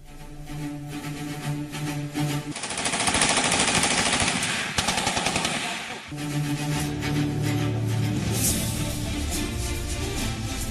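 Bursts of gunfire tied to cross-border firing in Jammu and Kashmir, heard as rapid automatic rattling mixed with a dense news-report soundtrack and talk.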